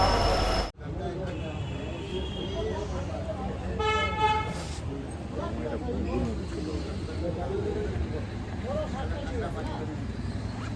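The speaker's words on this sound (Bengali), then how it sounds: "ট্রেন আমাদেরকে নামিয়ে দিয়ে ট্রেন তার গন্তব্যের পথে এগোচ্ছে" A passenger train pulling away from a station on the route from Siliguri toward Darjeeling, with a short horn toot and a continuous low rumble of wagons under outdoor noise and background voices.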